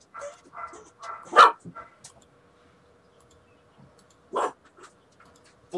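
A pet dog gives a few scattered barks, one loud bark then another after a pause, mixed with faint voices and quiet household background.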